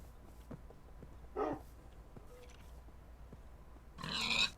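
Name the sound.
pig grunting in Minecraft video game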